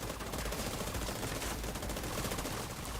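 Dense, continuous automatic gunfire from the video game The Division 2 rattles without a break, loud and close, with rapid overlapping shots filling the whole stretch.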